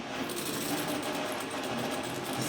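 A sewing machine stitching a straight seam in fabric runs as a steady, even mechanical whir with a rapid needle rhythm, close and alone without talking.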